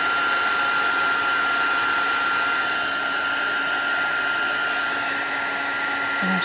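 A heat tool dries watercolour on a card with a steady, loud blowing hum that holds without a break from start to finish.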